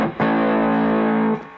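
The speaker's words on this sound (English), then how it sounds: "Oh, there's my reverb tank." A single distorted guitar chord through a Fender Hot Rod amplifier's spring reverb tank sustains for about a second with a reverberant wash, then stops with a short echoing tail.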